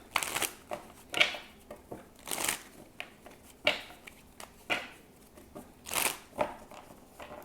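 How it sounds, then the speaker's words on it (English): Tarot cards are shuffled in a series of crisp riffles and soft flicks, close and fairly quiet, coming in irregular bursts. "Okay, one more shuffle."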